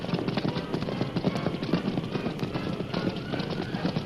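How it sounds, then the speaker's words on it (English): Steady drumming of horse hooves at a fast gallop through slippery mud and water-filled holes, rhythmic and continuous, with a dense, rumbling texture as if heard close by, in a radio drama. "The horse sped on, unmindful of the slippery mud and water-filled holes beneath the flying hoofs."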